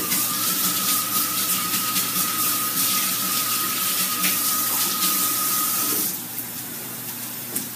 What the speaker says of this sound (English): Let me rinse my hands again.